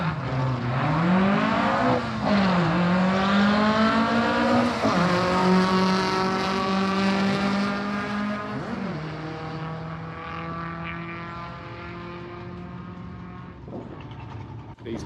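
Race cars lapping a rented-out track, including a BMW E30, roar past a grandstand near the pits with rising and falling engine notes, gear changes and Doppler sweeps, loud and continuous as several cars pass.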